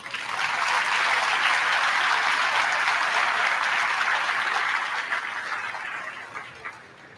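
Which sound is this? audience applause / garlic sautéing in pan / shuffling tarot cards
audience applause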